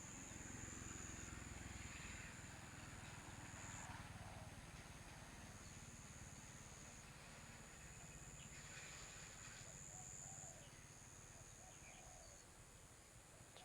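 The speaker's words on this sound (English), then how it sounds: "Start to hear the insects and the birds." Quiet outdoor ambience above a stream, with faint birdsong and a high, steady insect buzz over a low rumbling background.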